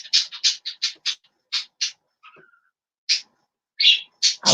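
Pet birds squawking loudly at daybreak indoors, a run of sharp, harsh calls in quick bursts, a short pause, then several more close, loud squawks.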